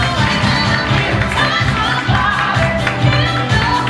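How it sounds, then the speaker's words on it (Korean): Steady, dense applause fills a street dance battle semifinal at the Street All-Round Championship, loud and unbroken for several seconds over a low rhythmic throb. "박수를 부탁드리겠습니다."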